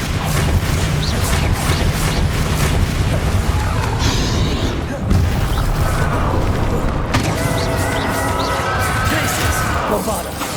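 Explosive combat spells in Hogwarts Legacy produce loud booms and crashing impacts mixed with whooshing magical effects and game music, one after another over the whole stretch.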